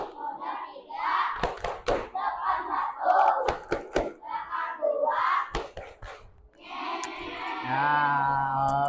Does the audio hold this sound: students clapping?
yes